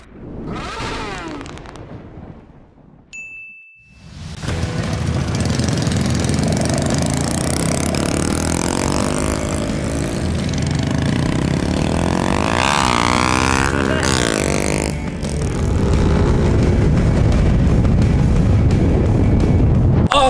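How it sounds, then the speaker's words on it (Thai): A stock car at a drag race revs hard and launches off the line, its engine roaring loud and close for a long stretch. The roar surges, dips briefly and builds again, with no talk over it. "แล้วผมจะซ้อมออกตัวให้ดูก่อนว่าการออกตัวหดขนาดไหน"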